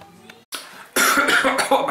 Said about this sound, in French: je tousse comme si je fumais alors que c'est pas le cas